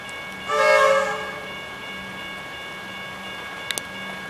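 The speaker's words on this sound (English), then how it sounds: "the metro train's now departing Kensington station" A Melbourne Metro train departs Kensington station near the Macaulay Road level crossing, sounding a loud, sustained horn blast, then a quieter low rumble with a brief sharp click near the end.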